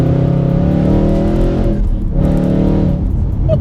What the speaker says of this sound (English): you can really feel it kicking proper low down in the rev to bring this V8 right up and singing